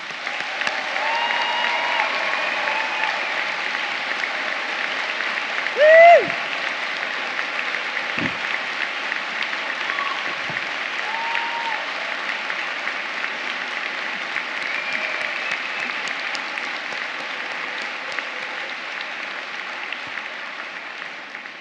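A big audience at a degree ceremony in the Barbican Centre, London, gives long, even applause for family and friends, a continuous wash of clapping over twenty seconds, punctuated early by a single loud cheer.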